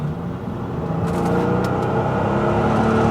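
A Mercedes S65 AMG with a V12 engine accelerating, a loud, close, steady engine drone that builds slightly over a few seconds, with no one talking.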